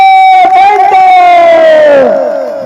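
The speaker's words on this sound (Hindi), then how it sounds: "एक बार जोरदार ताली हमारे जय सेवा गुरु जी के लिए" At a Gondi Koya Punem gathering, a crowd lets out a loud, sustained collective cheer for a guru that holds for about two seconds before tapering off.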